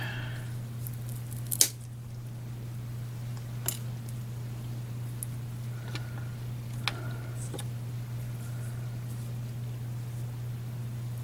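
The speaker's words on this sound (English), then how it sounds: "I'll just snip it off about there" Clippers snip through polymer clay mushroom pieces with a few sharp, isolated clicks spaced seconds apart over a steady low hum.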